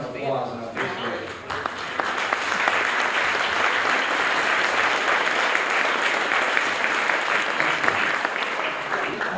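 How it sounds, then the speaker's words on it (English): Loud, sustained applause from an audience at a chamber of commerce small business awards event, building within the first two seconds and then holding steady, with voices mixed into the clapping. "Please stand and enjoy a round of applause."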